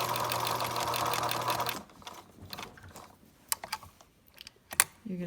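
Sewing machine stitching small fabric squares, a steady loud whirring run for under two seconds, then stopping, followed by scattered clicks and light handling noises as the hand wheel is turned.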